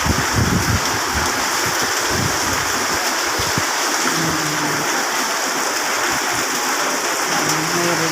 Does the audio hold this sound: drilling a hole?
no